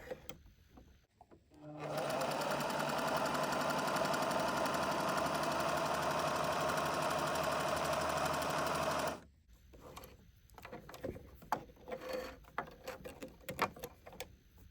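A Singer 2517C sewing machine runs a straight stitch in one loud, steady, continuous hum lasting about seven seconds, followed by quieter handling noises and soft clicks.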